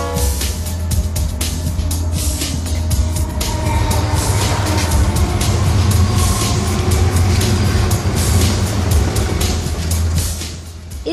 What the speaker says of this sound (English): Kids, look there. It is a train.